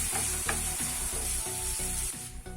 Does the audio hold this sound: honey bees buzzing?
no